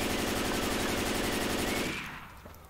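Rapid automatic gunfire in the Left 4 Dead 2 video game, a loud continuous burst of shots that stops abruptly near the end, leaving a faint tail; no talk.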